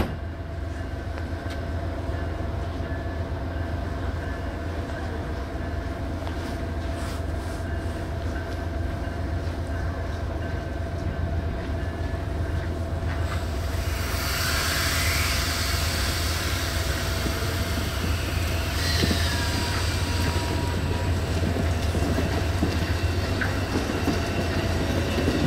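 An Amtrak California Zephyr passenger train departs Fort Morgan, a steady loud rumble of rolling railcars with rhythmic wheel clatter and a brighter hiss of wheels rising in the second half.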